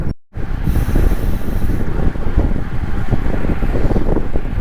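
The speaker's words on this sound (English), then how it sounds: "It's windy" Strong wind buffets a microphone outdoors, a loud, rough low rumble with gusting swells throughout after a brief cut at the start, and no talking.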